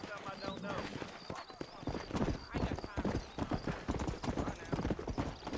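Horse hooves clip-clop in a steady, close rhythm in Red Dead Redemption, loud and regular throughout, with a faint whinny and voices mixed underneath.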